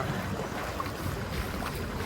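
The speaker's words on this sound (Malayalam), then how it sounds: "ഭയങ്കരമായിട്ടുള്ള മഴ." Heavy rain pours down steadily in Dubai, with water streaming off a building in a dense, continuous wash of noise and no break in it.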